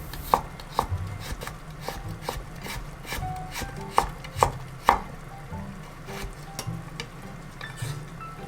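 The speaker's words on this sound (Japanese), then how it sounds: "人参は短冊切りにします。" A knife cuts carrots into thin rectangular strips on a cutting board, with a steady run of crisp, close taps, some sharper than others, against a faint background of sizzling and no talk.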